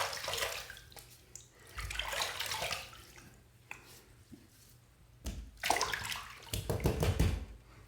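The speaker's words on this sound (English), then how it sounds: "I'm just going to rinse this off a little bit" Running water from a tap splashes as a Gemini razor is rinsed during a head shave, with irregular bursts of splashing and gurgling at close range, fairly quiet.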